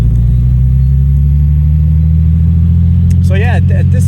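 A Porsche 930 Slantnose Turbo 911 engine rumbles loudly and steadily at low speed as it drives, with a voice briefly speaking over it near the end.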